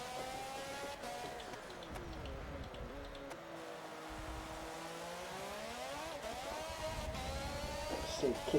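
Renault F1 R.S. 17 race car in Forza Motorsport 7 at Laguna Seca, its high engine whine rising and falling through gear changes with wheelspin, fairly faint, under occasional talk.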